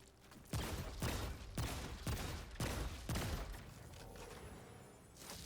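Savior gun in the video game Remnant 2 fires rapid, evenly spaced perfect shots, about eight loud booming reports roughly half a second apart, each with a ringing tail, ending with a quieter reload-like clatter.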